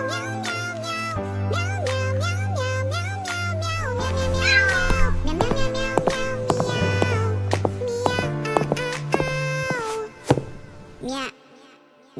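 A kitten meows repeatedly in desperate, wavering cries over sustained musical tones, with the calls crowding together before ending in a few last sharp cries.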